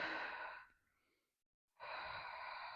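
A woman breathes heavily during postnatal pelvic floor exercises, two long, loud, close exhalations separated by a brief silent pause.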